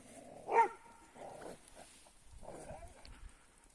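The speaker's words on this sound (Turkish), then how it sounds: "birine havlıyor. Aşağıda biri var." A village dog barks at someone below on a snowy day, a single distinct bark followed by softer, muffled barks and whines at moderate distance.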